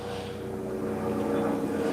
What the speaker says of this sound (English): I just heard a airplane.